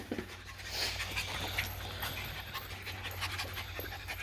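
A cream Shiba Inu puppy pants quickly and steadily close by, soft breathy huffs over a low background hum, with no talk.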